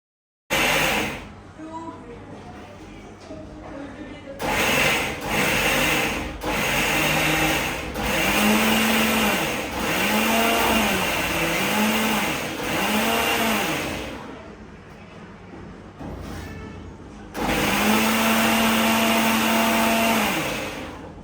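An electric mixer grinder whirs loudly while grinding a wet paste with added water, running in several bursts with brief pauses between and a steady pitch that dips under load.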